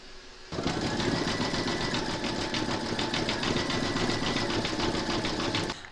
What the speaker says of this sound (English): Next is the satin stitching around the paw and the paw detail.